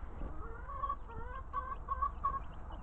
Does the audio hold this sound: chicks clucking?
yes